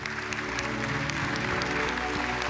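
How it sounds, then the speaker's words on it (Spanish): A church congregation at a Sunday service claps together, a dense, even patter of hands over a low musical hum, continuous for a couple of seconds without speech on top. "put your hands together"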